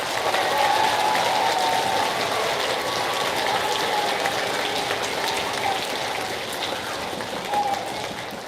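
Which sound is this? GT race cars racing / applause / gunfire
applause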